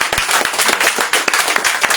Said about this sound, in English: Let's give Emmanuel a big hand or applause.